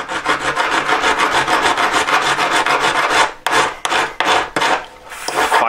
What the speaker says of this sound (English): Filing it up.